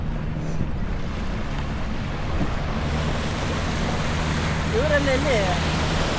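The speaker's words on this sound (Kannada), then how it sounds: "ಯಾವುದೋ ಒಂದು ಅಲೆ ಹೊಡಿತು" Steady ocean surf rushes and roars in a broad wash of noise, with wind buffeting the microphone and a brief whistling tone near the end.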